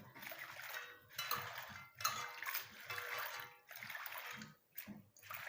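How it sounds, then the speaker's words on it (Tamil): Water sloshes and splashes in a container in repeated bursts, with wet rustling of leaves being swirled and rinsed by hand. "தண்ணி ஊற்றி நல்லா அலசிக்கோங்க"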